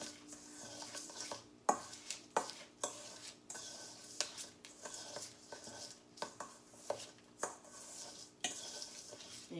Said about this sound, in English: Now we're going to give it a stir.